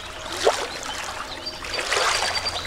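Water trickles and splashes lightly in a creek along the Union Canal, a close, continuous burbling with small brighter splashes and no talking.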